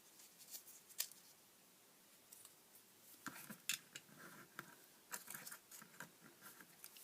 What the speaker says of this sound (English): you're going to fold them in half